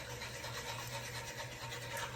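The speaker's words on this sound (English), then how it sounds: "this little handy dandy whisk right here is perfect for stuff like this" Wire whisk scraping across the bottom of a cast iron skillet while making cubed steak gravy, a steady close rasping scrub that runs continuously without a break.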